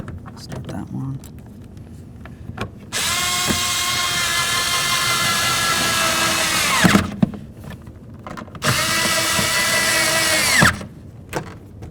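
A power drill drives long bolts into a door handle on a 1992-2000 Chevy Tahoe during window regulator work, whirring loudly in two sustained bursts of several seconds each with a pitch that winds down, close up, separated by quieter handling noise.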